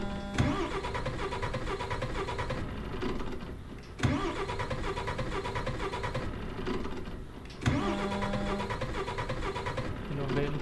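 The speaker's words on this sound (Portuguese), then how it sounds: "o caminhão acho que não vai ligar mais, né?" In Euro Truck Simulator 2, a truck's starter cranks the engine over and over without it catching. Three long grinding attempts are each broken by a sharp stop, and the steady mechanical churn dominates throughout.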